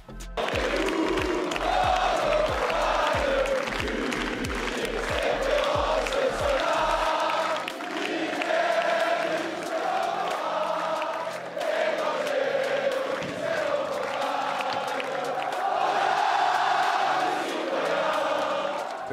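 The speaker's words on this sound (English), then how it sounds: "Following the win, he sang the French national anthem with the crowd." A tennis crowd sings the French national anthem together after a win. The singing is loud and sustained throughout, with a steady thumping beat under it for the first several seconds.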